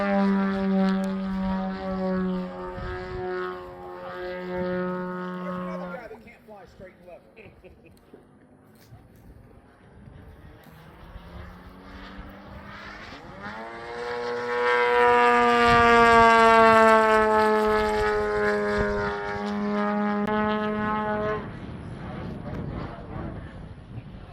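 Large, powerful RC airplane accelerating fast after takeoff, its engine a loud tonal whine that drops away, then rises and sweeps upward in pitch as it passes close before fading, with a voice talking briefly.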